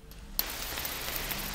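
Rain sample from the ambience library of the Phase Plant synth's sampler: steady, dense hiss of rainfall on a surface. It begins abruptly after a short quiet lead-in, then holds an even, close wash with faint scattered drop ticks and no voices.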